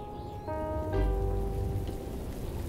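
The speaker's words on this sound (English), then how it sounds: "It's going to rain!" Cartoon rain falls in a short burst, a steady patter of drops with no talk.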